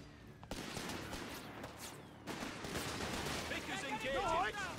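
A Vickers machine gun fires in Company of Heroes 3 amid a busy battlefield, rattling bursts mixed with other gunfire and explosions, while voices call out over the din.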